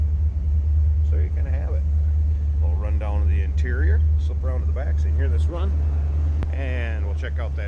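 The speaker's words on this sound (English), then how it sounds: "Nice little rumble coming out of that 350." A 1980 Chevrolet Corvette with a 350 V8 idles behind the car, a deep steady low rumble running throughout while someone talks over it.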